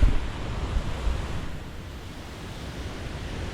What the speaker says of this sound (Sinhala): හිතා ගන්නකෝ මෙතනින් කොච්චර ලොකු වතුර පාරක් යනවද කියලා